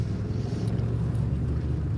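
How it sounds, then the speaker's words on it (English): A low, steady engine rumble idles close by, smooth and continuous with a soft throbbing texture and no voices. "Listen to that engine purr"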